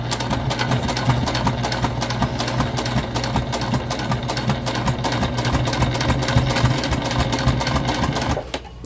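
A sewing machine runs steadily while stitching a travel sling bag, a close, loud, rapid mechanical chatter of needle strokes that continues without pause and stops just before the end; no speech.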